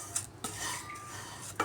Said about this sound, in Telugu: గోల్డెన్ కలర్లో వచ్చేదాకా ఒక 3 నిమిషాలు బాగా ఫ్రై చేసుకుందామండి.